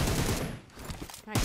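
Rapid gunfire bursts in a shooter video game during a solo squad match, loud and nearly continuous across the clip, with a short dip in the middle before heavy shots resume.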